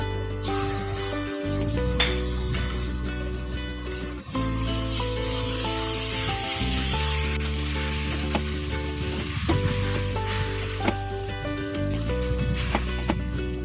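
Beef mince frying in a pan for an Italian meat sauce, a steady loud sizzle with occasional stirring scrapes and clatters throughout, no talking.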